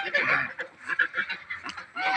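Geese kept on open land beside a house honk in a rapid, overlapping series of loud, harsh calls, close by and with no talking.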